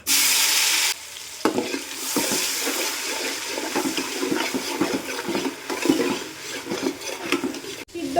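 Cardamom, cloves, cinnamon and ginger-garlic-chili paste fry in butter for chicken rezala, giving a loud opening hiss that settles into a continuous sizzle with repeated spoon scrapes and stirs.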